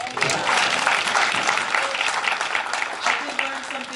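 An audience at a Triad meeting applauds a presenter named Rick, a steady wash of many hands clapping close and loud throughout, with a faint voice surfacing briefly over the noise.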